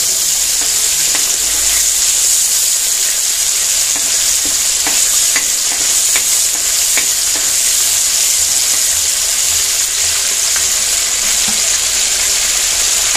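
Red chilli paste frying in a pan for dates pickle while being stirred, a continuous loud sizzle with scattered scraping clicks of the spoon, close and steady throughout.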